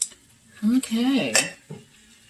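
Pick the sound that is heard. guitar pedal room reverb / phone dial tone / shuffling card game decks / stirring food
stirring food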